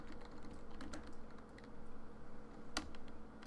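A computer keyboard is typed on in quick, uneven bursts of soft clicks, close and fairly quiet, with one sharper key strike near the end and no talking.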